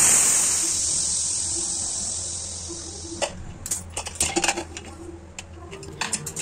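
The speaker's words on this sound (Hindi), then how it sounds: "प्रेशर कुकर की गैस निकालेंगे" A loud hiss of steam rushes out of a pressure cooker after two whistles and gradually weakens, followed by clinks and clatter of metal utensils while cooking cluster fig curry.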